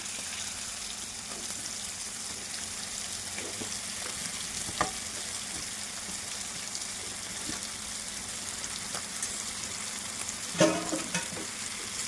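Chicken pieces fry in a pan with green chillies, giving a soft, steady sizzle and crackle close by, with a few faint stirring scrapes and one brief clatter near the end.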